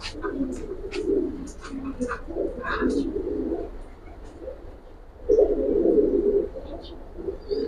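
Silver pigeons coo in a loft, soft low rolling calls repeating in clusters close by, with a few sharper chirps and bursts of louder cooing near the end.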